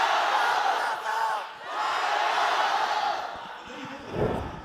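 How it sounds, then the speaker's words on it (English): Large esports arena crowd at a VCT Masters Shanghai Valorant match roaring and chanting in support of FPX, a dense sustained wall of voices that swells and dips, with a louder surge near the end. "The Guardians singing here for FPX, hitting some phenomenal shots."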